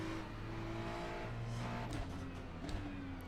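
A Ferrari 296 GT3 race car in iRacing idles and revs with a steady engine drone and a couple of short throttle blips near the end, heard close with no talk.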